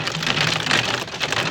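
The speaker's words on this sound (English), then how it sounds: "It's raining with ice." Hail falls like heavy rain during a London hailstorm, a dense, loud, continuous patter of ice pellets striking surfaces nearby, with no voices.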